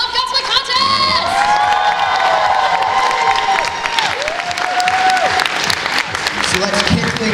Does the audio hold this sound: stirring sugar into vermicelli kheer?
no